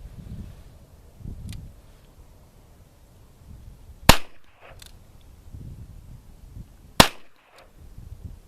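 An Enfield No.2 Mk.I revolver fired single action: two sharp, loud cracks about three seconds apart, each with a brief echoing tail, over quiet background.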